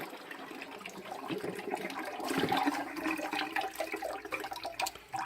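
Water pours and rushes over garden radishes in a colander, a steady close splashing stream that swells briefly in the middle, with no talk.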